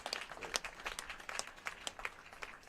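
A crowd at a girls' high school lacrosse game applauds steadily for an injured player walking off the field, a scattered, moderately distant clapping with no voices standing out.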